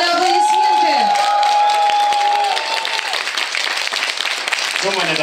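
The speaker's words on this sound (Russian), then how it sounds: "Господа, аплодисменты!" Wedding guests applaud loudly after the couple is pronounced married at a civil ceremony, a steady wash of clapping and crowd noise lasting throughout, with a sustained tone and voices mixed in near the start and end.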